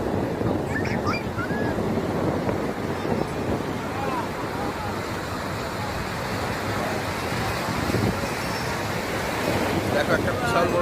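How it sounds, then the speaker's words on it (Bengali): Large waves breaking at night on Swargadwar beach in Puri, a continuous roaring surf with wind buffeting the microphone and no pauses. "স্বর্গদ্বার সি বিচ, কি বড় বড় ঢেউ, বিশাল বিশাল ঢেউ"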